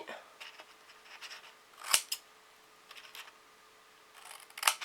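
Scissors making a few small snips while cutting paper or card to shape little one-piece boxes, sparse clicks with quiet gaps between, close and alone.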